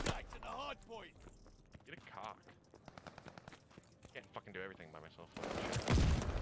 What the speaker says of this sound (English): Nice teammate, you literally just shot me so many times